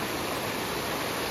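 Water rushes continuously down the Erappan waterfall stream, a close, even hiss of flowing water with no talking.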